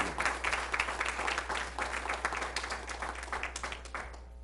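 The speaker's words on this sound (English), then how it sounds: "how about a round of applause for these candidates?" Audience at a League of Women Voters council candidates forum applauding steadily for about four seconds, a moderately sized indoor crowd with dense clapping over a low hum.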